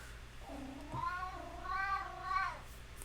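A house cat meows repeatedly in the background, a series of about three drawn-out calls over a steady low hum, with no talking.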